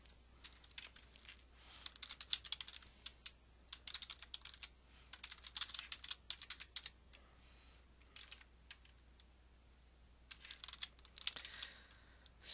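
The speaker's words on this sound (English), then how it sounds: "anywhere I click, I can start typing" Keys clatter on a computer keyboard in quick bursts of typing separated by short pauses. The keystrokes are close-miked and fairly quiet in a silent room.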